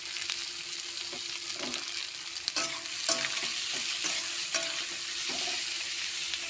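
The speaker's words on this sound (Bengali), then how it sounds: "পেঁয়াজটা লাল লাল করে প্রথমে ভেজে নেবো" Chopped onions fry in hot oil with black cumin seeds, a continuous crackling sizzle broken by repeated stirring scrapes against the pan, close and alone without talk.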